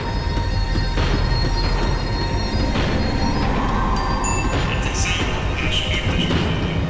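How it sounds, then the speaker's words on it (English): A tram slowing down in the video game Max Payne 3, with a loud continuous rumble of wheels on rails and shrill metallic wheel squeals that rise and waver toward the end. "The tram was slowing down, and I'd only just gotten on board."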